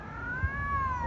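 A feral cat caterwauls in a long, rising-and-falling wail, close and fairly loud, with a faint low rumble underneath.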